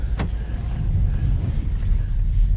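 A LADA Vesta SW Cross rolls along with a steady low engine and road rumble, a close, continuous drone carrying a brief faint whoosh near the start and no voices.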